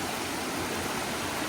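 Water flowing in a stream at a crossing on the Hanakapi'ai Falls trail on Kauai: a steady, dense rushing hiss that stays constant and close throughout, with no voices.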